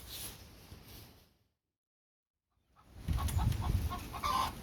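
A hen clucks in a mildly agitated way inside a coop outdoors, close and moderately loud, with a silent gap in the middle before louder clucking and farmyard noise resume.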